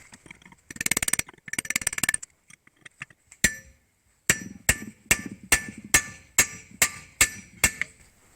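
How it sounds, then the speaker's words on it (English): A hammer strikes a chisel against a Subaru wheel hub, first in two quick rattling bursts, then in a run of about ten sharp metallic blows with ringing tails, close and loud. "and try to chisel this off now."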